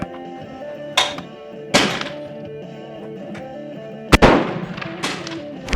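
Carcano 7.35x51 rifle firing at a target, several sharp booming reports with ringing decay spaced irregularly over a steady tonal background hum, with two louder, closer blasts near the end.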